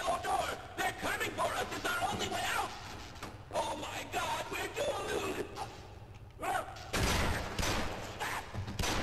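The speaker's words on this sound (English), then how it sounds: "Wait, someone's shooting?" Bursts of rapid gunfire crackle in Half-Life VR, repeated volleys of sharp shots with yelling and voices, the heaviest burst near the end.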